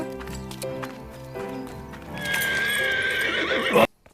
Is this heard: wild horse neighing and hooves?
yes